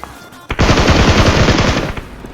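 SCAR-L assault rifle fire in PUBG Mobile, one rapid automatic burst of about a dozen close, loud shots lasting roughly a second and a half, heard alone.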